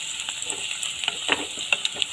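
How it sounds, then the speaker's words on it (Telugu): Onions and turmeric frying in a pan for a Telugu amaranth-leaf and moong dal curry, a constant close sizzle with a few sharper pops and crackles, no voices. "ఈ పసుపు ఒక 2 మినిట్స్ వరకు ఫ్రై చేసుకోవాలి,"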